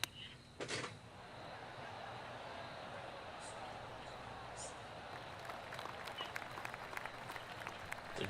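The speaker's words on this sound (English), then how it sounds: "They're cheering like I was good." Video-game crowd cheering and applauding on a golf course in PGA Tour 2K23, a steady broad wash of clapping and cheers with a brief louder burst near the start, continuing at an even level throughout.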